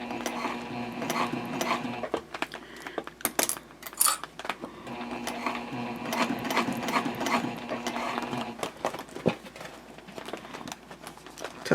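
A sewing machine stitching slowly through a jelly vinyl pouch runs in a steady mechanical whir, broken by stops, restarts and small clicks and clinks, with no voices.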